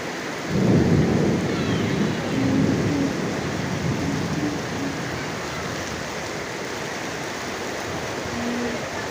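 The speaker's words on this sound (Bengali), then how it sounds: "হ্যাঁ, অনেক বৃষ্টি নামছে" Heavy rain pours down with a deep roll of thunder near the start, then a dense, loud, steady downpour continues alone with no voices.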